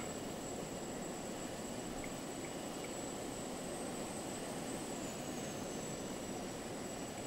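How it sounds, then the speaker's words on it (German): An airplane drones overhead in the video game Just Cause 2, a steady, even engine rumble and whir holding at constant loudness throughout with no voices. "Und da oben ist ein Flugzeug."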